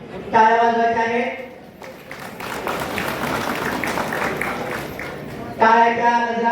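An audience claps steadily through a lamp-lighting ceremony at a government revenue department camp in Yavat, Daund. Continuous applause fills the middle while someone speaks into an amplified microphone at the start and end.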